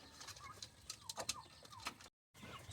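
A hen and rooster in a garden, giving soft clucks and low coos close by that repeat in short bursts, broken by a brief gap of silence near the end.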